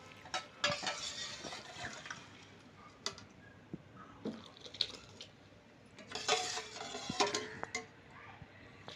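Close scraping and light clinking as a utensil stirs rice in boiling milk in a wide pot for sweet pongal, irregular strokes over a faint steady background hiss.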